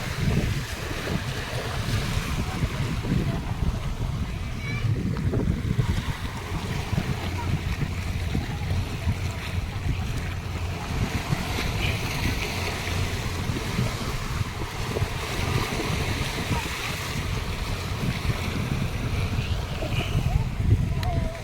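Strong wind buffets the microphone while sea waves roll and crash nearby during a fluvial parade, a constant loud roar with faint voices underneath.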